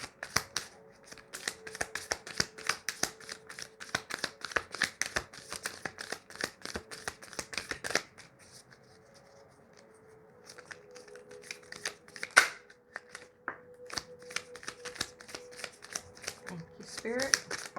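Tarot cards shuffled by hand in a steady run of crisp riffling flicks, pausing briefly midway before resuming, with a voice talking quietly underneath.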